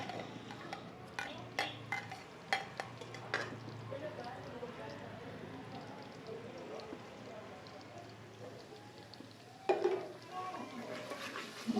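Garlic-ginger paste with cumin seeds frying lightly in hot oil in a home kitchen pan, a steady soft sizzle with scattered clinks and stirring scrapes, a few sharper knocks near the end.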